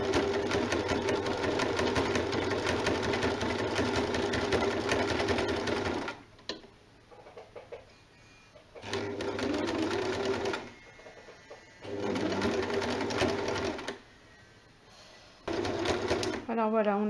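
A sewing machine stitches a jersey neckline on a jersey top, running in loud bursts of steady mechanical whirring separated by pauses, with faint handling sounds between runs.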